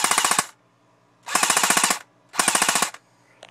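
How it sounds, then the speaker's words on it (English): Three rapid full-auto bursts from a D-Boys airsoft gun, each about half a second long with sharp clattering shots, separated by short silences, close and loud with no talking. "I'll show y'all how she fires."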